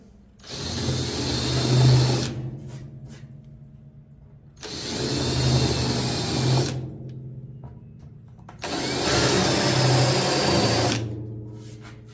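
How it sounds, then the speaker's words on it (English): A drill countersinks holes in clamped wood in three separate bursts, each roughly two seconds of loud whirring and grinding with short quiet gaps between them, close to the listener and with no talking. "So now we're going to countersink our holes just a little bit."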